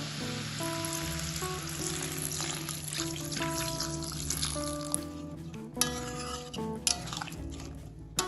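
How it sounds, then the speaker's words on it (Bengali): A large cup of water splashes into a pan of sizzling paneer and mixed-vegetable masala, the hot frying hiss mixing with trickling water, a steady low hum and a few sharp clinks from the pan. No talking. "এখন আমি এর মধ্যে দিয়ে দেবো 1 কাপ, বড় কাপের 1 কাপ জল"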